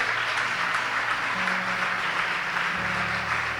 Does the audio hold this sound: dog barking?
no